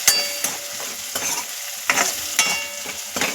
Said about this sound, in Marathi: आता हे मसाले दोन मिनटं तेलामध्ये परतून घेणार आहे व्यवस्थित